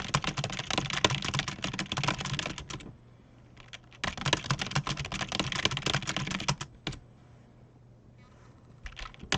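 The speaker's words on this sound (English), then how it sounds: "when you're typing at a speed above your level, you can't even feel when you're making an error anymore" Fast computer-keyboard typing comes in two dense bursts of rapid clicking, separated by short pauses, with a few scattered keystrokes at the end.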